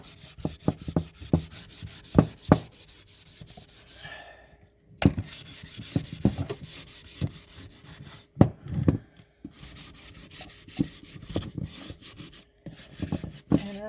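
Light hand sanding with 600 grit sandpaper on a milk-paint crackle-finish craft piece, with soft, rhythmic scratchy strokes, scattered taps and a short pause partway through.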